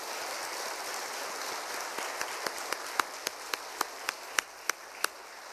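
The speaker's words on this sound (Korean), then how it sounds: "우리 다시 한번 격려의 박수 하겠습니다" A congregation applauds during a Wednesday service in a church. It is a soft, distant patter, and a few sharper single claps stand out toward the end.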